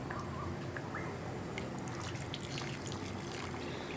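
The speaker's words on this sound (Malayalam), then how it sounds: "കുറച്ചുകൂടി തിളച്ച വെള്ളം ചേർക്കാണ്." Boiling water pours into a pot of potato beef curry, giving a steady close-up trickling, liquid rush that stays even and moderately loud throughout, with faint splashy detail near the end.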